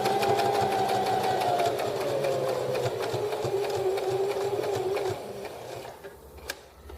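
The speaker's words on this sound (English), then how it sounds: "and I'm just straight stitching" A sewing machine running a straight stitch through a wrench tool roll, a rapid mechanical rhythmic clatter with a whirring motor whine that slowly drops in pitch, close and steady before it stops near the end.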